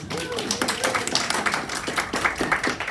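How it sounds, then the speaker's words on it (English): Applause from the audience at a book club member appreciation and book launch event: scattered, uneven clapping that fills the room, with a voice carrying over the top. "Give yourselves a big round of applause."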